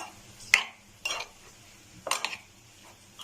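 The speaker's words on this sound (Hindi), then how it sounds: "इसको मैं अब मिक्स कर लेती हूँ। अच्छे से मिक्स करेंगे इसे" A spoon scrapes and clinks against a bowl while spicy chicken filling is mixed, three or four short, close scraping strokes at an uneven pace over a quiet background.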